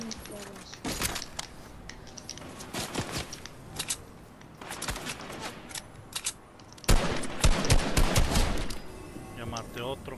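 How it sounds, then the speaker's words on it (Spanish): Repeated volleys of gunfire in Fortnite crack through the match, loud bursts clustered in several bunches and heaviest toward the end, while Spanish-speaking players talk over the shooting. "Me está disparando la mierda."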